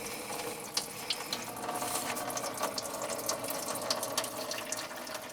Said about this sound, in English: Just loosen it up till it starts draining.